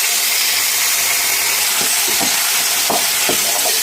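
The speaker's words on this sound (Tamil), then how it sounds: "ஊற்றிட்டு நல்லா அப்படியே கிண்டிக்கிட்டே இருக்கணும்" Chettinad kummayam batter cooking in a pan, a loud dense hiss and sizzle throughout with a few soft scraping stirs near the end, no talking.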